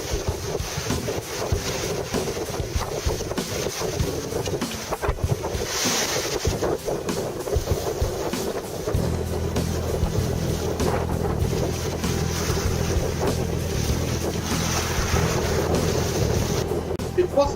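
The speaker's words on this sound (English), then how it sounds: "on a close reach, into 15 to 20 knots, and she was flying along, jumping up and down off the waves" A sailboat on a close reach into 15 to 20 knot winds crosses the Mediterranean between Tunisia and Sardinia, pounding off the waves. Wind buffets the microphone and rushing water roars steadily throughout.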